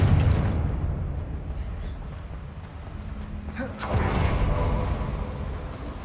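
A Confringo blasting spell explodes in Hogwarts Legacy, a broad rumbling boom that swells midway and rolls on under continuous game noise.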